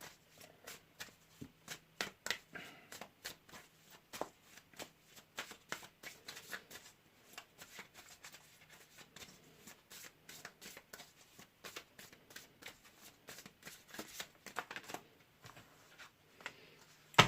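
A deck of tarot cards is shuffled over and over, giving quick, light riffling clicks and flutters that stay close and fairly soft for about seventeen seconds, with no talking.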